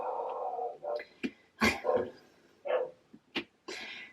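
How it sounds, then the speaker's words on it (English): A cockapoo dog barks in several sharp, separate bursts with whiny yelps between them, nearby and moderately loud, with no talking. "All I can hear is her barking."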